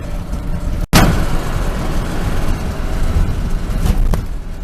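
A car drives along old US Route 99, a rough, beat-up stretch of road, producing a constant low rumble of engine and tire noise, loud and close, with a brief dropout near the start.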